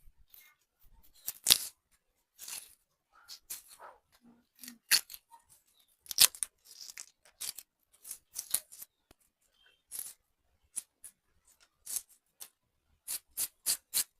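Onions and green chillies being cut for fritters, a string of crisp, uneven chopping knocks up close in an otherwise quiet kitchen.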